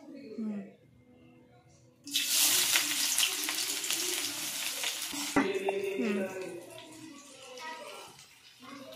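Onions drop into hot oil in a pan for spicy semolina and burst into a loud, bright sizzle that eases slightly with a stirring clatter midway, while a voice talks briefly before and faintly during the frying.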